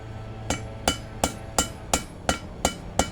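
Eight sharp metallic hammer blows on the corner of orange-hot steel while forging a holdfast, evenly spaced about a third of a second apart, ringing briefly after each strike.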